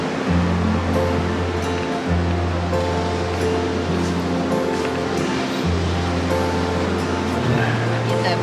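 Surf breaking on the ocean shore at a Cancun resort, a steady rushing wash that fills the whole clip with a low hum and voices faintly underneath.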